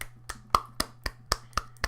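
Someone claps their hands about eight times in a steady, even rhythm. The sharp, close claps sound over a faint low hum in a podcast room.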